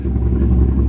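A modified wide-body Chevrolet Corvette Z06 engine roars, loud and close, in a steady deep rumble with no one talking.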